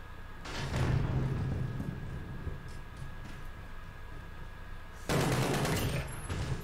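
Bursts of automatic gunfire in Call of Duty: Modern Warfare 2019, a loud volley near the start and another near the end, separated by a quieter stretch of muffled background rumble.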